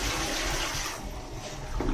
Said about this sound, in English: So this is how you flush the toilet.